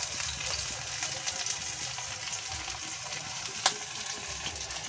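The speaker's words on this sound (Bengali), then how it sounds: "এখানে কড়াই পেঁয়াজ দিয়ে দিয়েছে তেলে।" Onions frying in oil in a wok make a close, continuous crackling sizzle with one brief sharp tap near the end.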